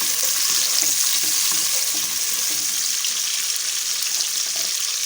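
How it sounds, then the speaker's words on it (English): Chopped onion fries in oil in a cooking pot for egusi soup, giving a constant close sizzle and hiss with faint stirring clatter throughout, no speech. "Allow it to fry like 1 minute."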